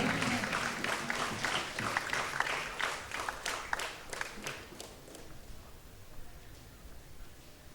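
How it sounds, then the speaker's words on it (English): Crowd applause at a rugby league match between HSC Sharks and Navy SC, scattered clapping heard from a distance, stronger at first and then thinning out and fading to quiet ambience. "We need a round of applause,"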